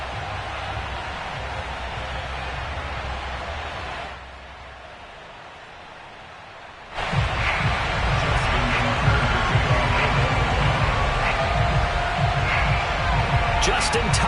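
A Baltimore stadium crowd roars at a Ravens vs Philadelphia Eagles Monday night football game as the teams emerge from their tunnels, a dense continuous cheer that briefly dips and then surges louder and sustained, with a commentator talking over it.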